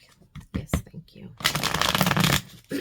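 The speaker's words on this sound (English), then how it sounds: "One more shuffle and then cut the deck." A tarot card deck is shuffled up close, with crisp riffling bursts and a long dense flutter of cards, interrupted by short quiet gaps.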